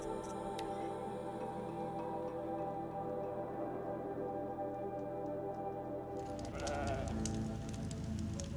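Goats bleat in the PC version of the video game Horizon Zero Dawn, a few wavering calls near the end over a steady ambient game hum and faint ticking.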